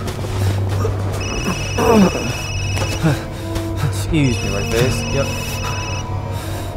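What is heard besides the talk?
phone ringing in Resident Evil Village video game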